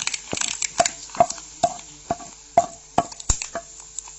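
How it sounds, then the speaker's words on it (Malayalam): A spoon stirring spices such as fennel and coriander powder into beef fry in a pan, with a series of sharp, evenly spaced taps and scrapes against the metal and faint sizzling, close by. "ഇനി നന്നായി ഇളക്കി കൊടുക്കാം"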